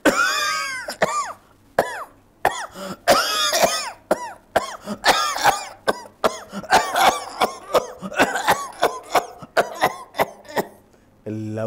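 A mimicry artist imitates coughing on a chat show, a rapid run of sharp, close, loud coughs and throat-clearing bursts with brief gaps, some in quick clusters.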